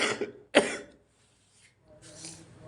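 A couple of short, close coughs followed by a pause, then a softer throat-clearing rasp.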